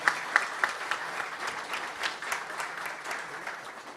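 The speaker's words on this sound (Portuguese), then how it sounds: "eu quero aqui pedir uma salva de palmas a Lucas de Túlio" Moderate applause from an audience at a council speech event, scattered claps settling into a light steady patter, heard from a middle distance.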